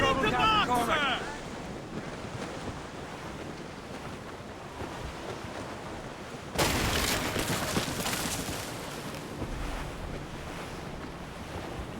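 Wind and breaking waves surround a sailing ship in Assassin's Creed Rogue, a steady rushing wash with a louder surge of spray midway, while game voices speak at the start.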